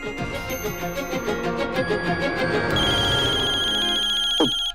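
A phone ringtone plays a repeating melodic chime pattern, loud and close, then shifts to a sustained tone before cutting off abruptly.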